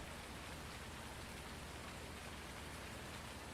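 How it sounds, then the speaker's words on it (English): Steady rainfall in Farming Simulator 19, an even, dense hiss of rain on surfaces that stays constant throughout with no voices. "It's also raining, so all this stuff's soaking wet."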